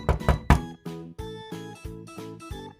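Several close, hollow knocks on a wooden door built of sticks, a quick cluster of three followed by a steadier series of single resonant thuds with short pauses between, heard alone without voices.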